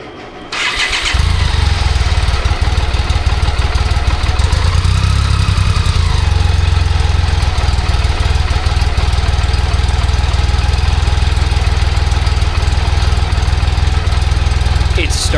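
A BMW K75RT three-cylinder motorcycle that sat for nine years fires up without choke and settles into a loud, steady, continuous idle close by.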